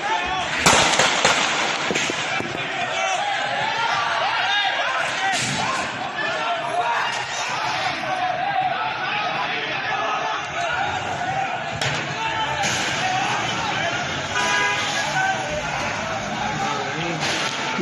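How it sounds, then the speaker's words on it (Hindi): Guns fired into the air during a street clash between crowds in Karachi, sharp loud cracks standing out from a dense roar of shouting voices and commotion, chaotic and continuous. "हवाई फायर मार रहे हैं लोग"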